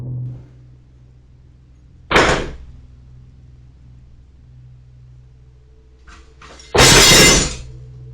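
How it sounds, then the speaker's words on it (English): Two loud crashes of a large kitchen basket falling from a counter and clattering, a few seconds apart in an otherwise quiet room, the second louder and longer. "A large kitchen basket suddenly falls from the counter with a loud thud."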